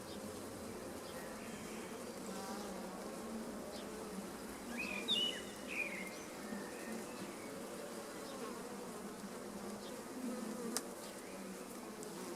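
Honeybees buzz in a dense, constant drone all around during a hive inspection, with a few brief nearby chirps over the hum.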